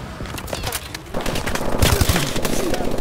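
Rapid automatic gunfire rattles in a Call of Duty Advanced Warfare team deathmatch, bursts of close shots that grow louder and denser in the second half, with heavy thumps and a player's voice faintly in the mix.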